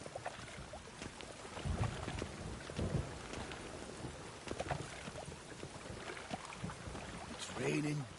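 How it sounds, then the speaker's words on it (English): Heavy rain pours in The Witcher 3, a dense, faint wash of downpour with scattered low rumbles and splashy bursts running throughout, ending on a short tonal sound. "It's raining buckets."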